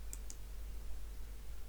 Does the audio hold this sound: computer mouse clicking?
yes